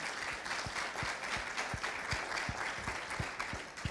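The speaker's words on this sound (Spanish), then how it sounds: "un aplauso para Ronald" An audience claps in a steady, rhythmic beat of distinct claps, several per second, for Ronald at the Triple Impact regenerative economy gathering in 2023. It sounds fairly faint, with no talk over it.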